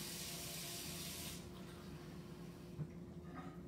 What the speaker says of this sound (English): So I'm gonna get 3/4 cup of water.